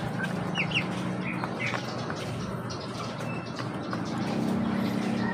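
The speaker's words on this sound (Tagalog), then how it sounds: "ito po ang update natin sa ating mga broiler chicken" A flock of broiler chickens at about three weeks old clucks and chatters continuously while feeding, moderately close, with soft scratching and rustling underneath.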